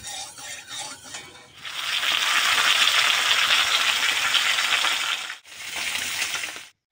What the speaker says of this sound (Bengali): তেলও গরম হয়ে গেছে। চলো মাছটাকে ছেড়ে দিই।